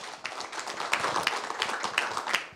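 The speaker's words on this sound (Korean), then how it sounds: "발제해 주신 우리 이득일 박사님께 큰 박수 부탁드리겠습니다" Audience applause following a lecture at a Korean elders' future forum, a dense steady patter of many hands clapping close by, with sharper individual claps standing out across the stretch.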